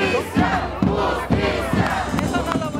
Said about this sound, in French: À sa sortie du congrès, la foule l'acclame